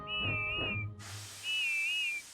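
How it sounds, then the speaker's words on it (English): A cartoon steam engine gives a funny wavering whistle twice, a bright warbling tone, with a burst of hissing steam between the two calls. "Then at last she heard Whiff's funny whistle."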